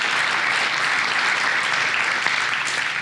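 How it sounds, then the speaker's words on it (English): Audience applause at a State of the County event, a dense, steady wash of many hands clapping, loud and continuous throughout with no voices over it. "So a big round of applause one more time for the chamber and the hard work they did to make this happen"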